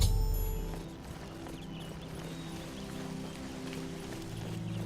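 Horse hooves clip-clop steadily in the video game Oblivion as a rider comes down a mountain, a continuous even rhythm under a faint musical drone, fairly loud and alone without talk.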